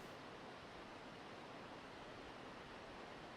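Steady rushing of a waterfall pouring into a small lake in an autumn-themed video game, a continuous even hiss of falling water with no voices over it.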